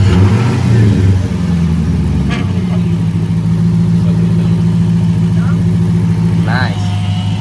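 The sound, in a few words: Chrysler 300 Hemi engine started and running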